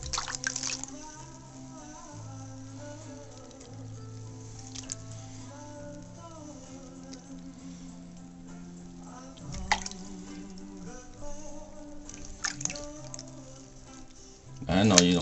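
Water drips and splashes softly during a pet dove's bubble bath at home, small wet patters scattered under a person's continuous gentle talking, with a louder splashy burst at the end.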